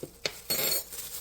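Clinks and scraping of a utensil against a bowl as pork chop marinade of olive oil, ranch seasoning and crushed red pepper is stirred, with two sharp knocks followed by a sustained scraping swirl, close and fairly loud, no talking.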